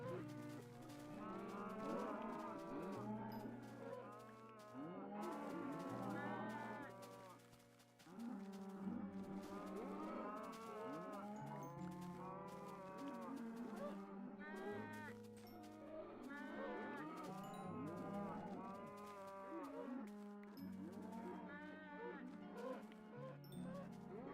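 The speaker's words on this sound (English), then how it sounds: "Jeez, these cows really don't like confinement, do they?" Many cows moo continuously in a crowded pen in Minecraft PS3 Edition, overlapping low drawn-out calls layered densely and steadily at moderate volume.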